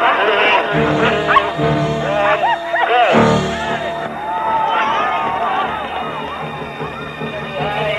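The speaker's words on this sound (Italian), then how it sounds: "I cani abbaiano e sono impazienti di partire" Sled dogs bark and yip excitedly in a chorus just before the start of a sled dog race in Alaska, loud and close, with crowd noise and voices mixed in throughout.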